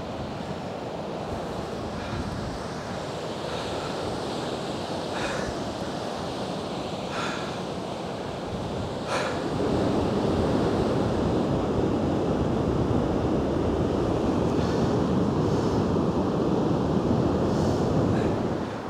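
Strong wind buffeting across the microphone at a beach with surf rolling in the background, a constant roar that grows heavier about halfway through.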